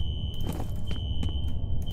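Ringing fire alarm in a security office in the video game F.E.A.R., a constant shrill tone held throughout, moderately loud, with faint scuffs and knocks over a low hum.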